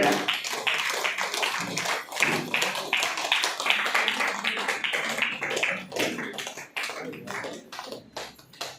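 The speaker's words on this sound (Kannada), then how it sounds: "ಜೋರಾಗಿ ಚಪ್ಪಾಳೆ ಬರಲಿ" Crowd clapping at a product launch function, with a dense, steady patter of many hands that stays busy throughout, occasionally thinning toward the end.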